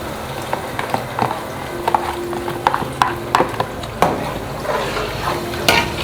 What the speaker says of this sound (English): add your stock into the mixture